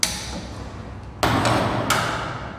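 A gas stove under a non-stick pan is switched on, giving two sharp clicks or thumps close by over a steady background hiss.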